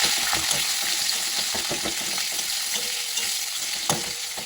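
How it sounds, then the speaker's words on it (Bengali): Chopped onion and green chili frying in oil in a wok, a steady bright sizzle with scraping stir strokes and occasional louder pops, close and without talk. "এর মধ্যে একে একে পেঁয়াজ কুচি দিয়ে দিলাম, লঙ্কা কুচি দিয়ে দিলাম, দিয়ে একটু ভাজবো।"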